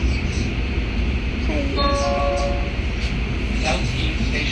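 A train pulls into a transit station, with a steady heavy rumble, a brief high tonal squeal or chime partway through and a constant loud background of rail noise.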